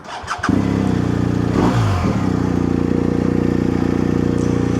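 A motorcycle engine cranks briefly, then starts and settles into a loud, steady close idle with an even pulsing throb that carries on to the end.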